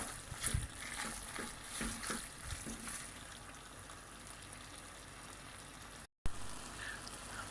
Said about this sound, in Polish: I smażymy to dalej.